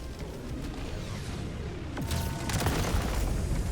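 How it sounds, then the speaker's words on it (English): Gunfire in a first-person shooter duel, a stim pistol against an ultimatum, with sharp shots and broadband impacts after about two seconds over a steady dense game-ambience rumble. "He shot!"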